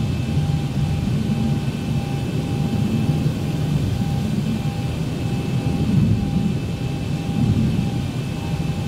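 Southwest airliner jet engines roaring steadily at takeoff power, a loud continuous low rumble with a faint whine, heard from inside the cabin on a departure from Albuquerque.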